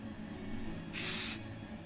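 A single burst of matte black aerosol spray paint hisses for about half a second, the broad airy spray of a pressurized can coating a car part, set against quiet background room noise.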